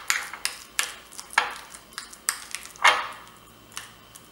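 Spoon scraping and tapping against a bowl while mixing avocado with black pepper and lemon juice for a toast topping, producing a steady series of light clinks and scrapes, close and alone.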